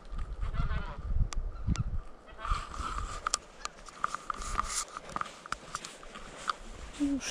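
Repeated honking duck calls from overhead as the ducks fly past, fairly distant, scattered across the clip with faint rustling and forest ambience underneath.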